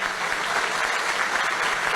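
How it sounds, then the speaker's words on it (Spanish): A steady wash of audience applause fills the whole stretch, dense and even, with many hands clapping at once at a formal public address, no voices standing out. "muy merecido aplauso para el esfuerzo que lideró Carlos"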